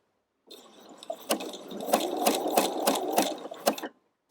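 A sewing machine zigzag-stitching through sequin holes in fabric, a short run of about three seconds, with a steady whir and regular sharp clicks, close by.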